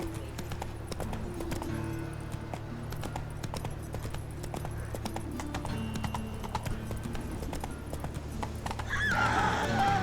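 Roach the horse from The Witcher 3 trots with crisp, steady clip-clopping hooves in the foreground, then gives a loud whinny near the end over a low game ambience.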